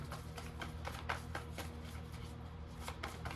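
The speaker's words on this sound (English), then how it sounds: "Shuffling for the collective, please." Tarot cards are shuffled by hand in a quiet room, with a rapid run of soft, papery riffles and taps repeating at a steady pace, close and fairly faint.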